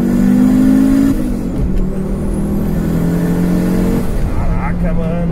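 Fiat Marea Turbo car engine pulling at about 80 km/h around 5,000 rpm, a loud steady drone with tonal whine and gear-change dips while driving, with voices talking over the engine.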